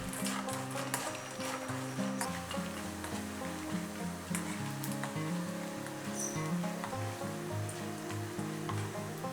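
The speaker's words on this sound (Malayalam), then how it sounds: "ഇനി ഈ വറുത്ത ബീഫ് മുഴുവനും കൂടെ നമ്മൾ എണ്ണയിലേക്ക് ഒന്ന് തിരിച്ചിട്ടിട്ട് ഒന്നും കൂടെ കൂട്ടിയിട്ട് ഫ്രൈ ചെയ്തെടുക്കുകയാണ്" Crispy beef pieces being fried again in hot oil in a pan for a Chinese-style stir fry, giving a steady, dense sizzle throughout with scattered crackles and pops, with background music or tonal sound running underneath.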